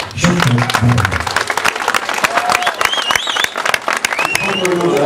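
Applause and crowd noise at the 2013 Oždany serpentine race, a dense, steady clatter of many hands clapping with scattered whistles and cheers, loud and continuous throughout.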